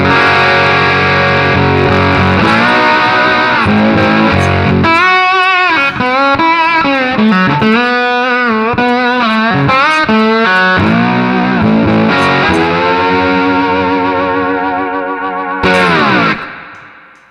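A slide guitar plays through an amp turned up to 10 with the volume pedal fully up, giving a loud, heavily distorted sustained tone with sliding pitch glides and a long held note before cutting off at the end.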